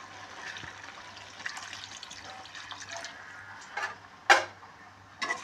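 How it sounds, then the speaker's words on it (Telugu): Water is poured into a pan of pomfret fish curry seasoned with turmeric, chili powder and salt. Quiet trickling and splashing build to a louder splash near the end in a quiet kitchen. "నీళ్ళు వేసుకుందాం."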